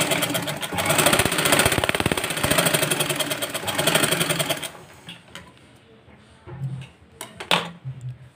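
A sewing machine stitches tucks into a blouse, a rapid mechanical whirr for about five seconds before stopping, followed by short scattered bursts of stitching and handling noises.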